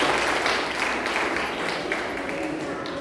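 An audience at a religious discourse in a Virakta Math claps for the donors, steady broadband applause continuing throughout at moderate, somewhat distant volume.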